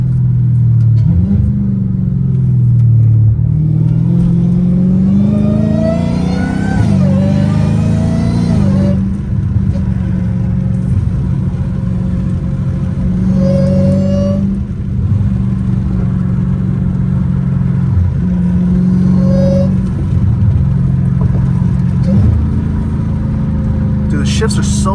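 A catless Dodge Challenger Hellcat Redeye accelerates hard on the street, its engine note climbing and dropping with several quick gear shifts, loud from inside the cabin, with someone talking over it.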